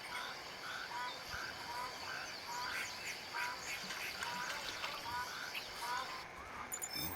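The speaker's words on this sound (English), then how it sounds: "And we got more geese coming." Magpie geese call over Picabeen Bay, a flock giving repeated honking and croaking notes at a distance, layered over a steady background hiss.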